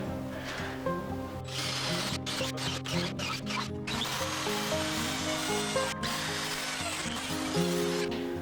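A power drill bores holes into pieces of barnwood with a sustained whirring motor, broken by several short stops and restarts, close and steady.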